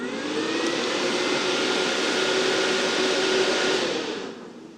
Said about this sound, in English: this is a 12-volt fan, 12-volt battery charger, and I press boost